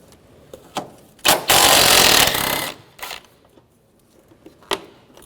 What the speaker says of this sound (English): Now we're going to take these 2 bolts off. Use a 13mm socket.